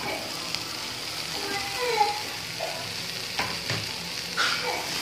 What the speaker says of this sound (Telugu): ఇప్పుడు స్వీట్ కార్న్ వేసేస్తున్నాను